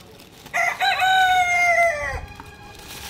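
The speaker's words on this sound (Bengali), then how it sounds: "আমাদের মোরগটা আবার ডেকেই যাচ্ছে।" A rooster gives a single full crow, close and clear, rising then trailing off over faint background noise.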